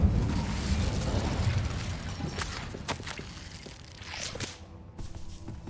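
Incendio fire spell cast in Hogwarts Legacy, a loud whooshing burst of flame that roars at the start, then fades into a few sharp pops and crackles.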